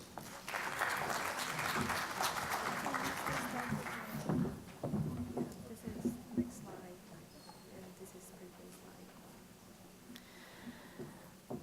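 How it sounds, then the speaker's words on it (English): Applause from an audience at a social innovation and entrepreneurship event, fairly faint and brief, fading after a few seconds into scattered claps and room noise with some talk. "please give her a big round of applause"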